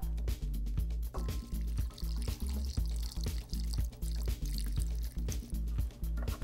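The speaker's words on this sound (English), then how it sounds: "And then pour." Vodka pours out of a cocktail shaker with a trickling, dripping splash into a glass, close by, with repeated small knocks and sloshes over several seconds and no talk.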